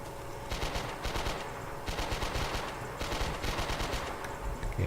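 Rapid bursts of gunfire from a third-person shooter video game, repeating in several volleys of automatic fire against a steady background of game sound, with no one talking.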